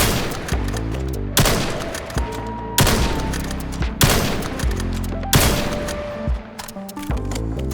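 Gunfire in a VR shooting game, with loud close bursts of rapid shots in several separate volleys, each followed by ringing tails and brief gaps.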